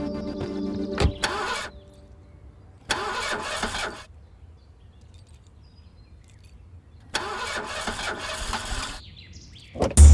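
A car engine cranking in repeated bursts of starter whirring, separated by silent pauses, never catching, close and fairly loud.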